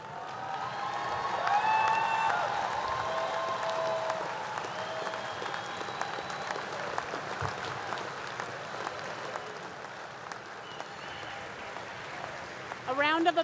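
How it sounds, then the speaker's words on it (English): Sustained applause from a large commencement crowd greeting new graduates at a Virginia Tech graduate school ceremony, a dense steady clatter of clapping throughout with scattered cheers, and a brief loud burst near the end. "A round of applause for all of our new graduates."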